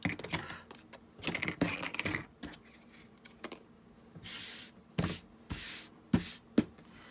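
Greeting card paper being trimmed for a junk journal tag: a series of short, close snipping and rustling bursts in uneven clusters, some sharper clicks near the end, with quiet pauses between and no talking.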